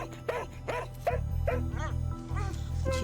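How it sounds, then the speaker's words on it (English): A dog barks repeatedly in short, loud bursts to alert a neighbor and summon help, with a low steady rumble underneath throughout. "Similar to Taz, she exhibited that pack behavior where she turned and barked and found someone to follow her back"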